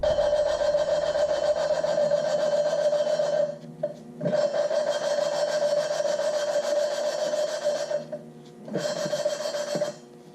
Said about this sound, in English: There's that gritty noise, and then it kind of wears into a really finer tinny noise when the compound wears down